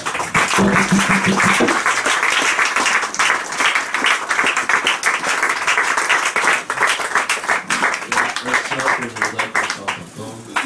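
A church congregation claps and cheers for the Lord in sustained, loud applause that carries on throughout, with voices calling out over it.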